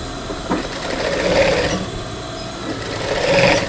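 A sewing machine stitches the hem of a barong in steady runs, its mechanical whir swelling and easing over several seconds, close and moderately loud, with no talking.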